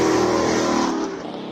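A Ford Mustang engine roars loudly close by as it accelerates hard uphill at a hill-climb race in Cape Town, the revving holding strong before easing slightly at the end.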